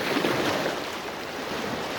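Ocean waves washing against a rocky fishing point on the Jeju coast near Seogwipo, a continuous broad surf roar mixed with wind buffeting the microphone, steady and fairly loud.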